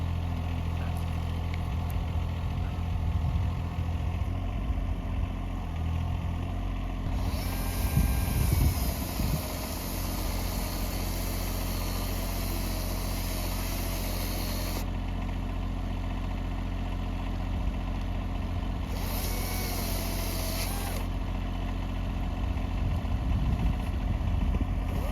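A tractor's steady, low engine idles continuously after lifting a heavy log, with faint hiss and occasional brief higher-pitched whines rising over the rumble.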